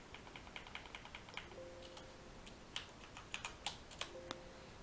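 Quiet, irregular clicks of keys on a computer keyboard as login credentials are typed, in short bursts of light taps.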